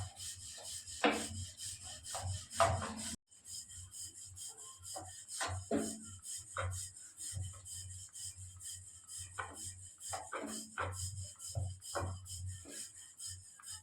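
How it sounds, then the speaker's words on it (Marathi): Puran poli dough being gently rolled out with a wooden rolling pin, giving soft repeated rubbing and rolling strokes at close range, with light knocks and a steady low hum in the background. "हलक्या हाताने लाटून घ्यायचे."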